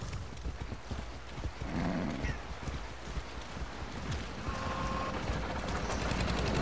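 A horse in Far Cry 6 balks at water. Hoof clip-clops thud steadily over a dense game soundscape, with a brief whinny and distant gunfire mixed in.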